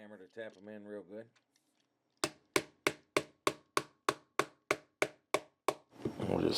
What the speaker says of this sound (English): Just use my fret hammer to tap them in real good.